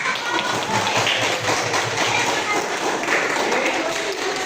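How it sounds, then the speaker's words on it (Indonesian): An audience at a presentation breaks into applause, scattered clapping carrying on steadily for several seconds at a moderate level, with voices mixed in. "boleh tepuk tangan dulu"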